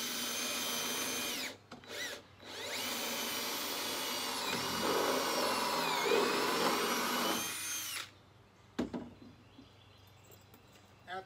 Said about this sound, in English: I'm gonna grab the drill bit and I'm gonna drill a hole from the top down through the pipe.